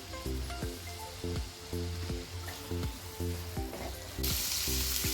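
Garlic chutney crackling and sizzling in a pan as coriander is stirred through, a continuous fry with repeated rhythmic clanks of the spoon against the pan and a sharper hiss swelling at the end.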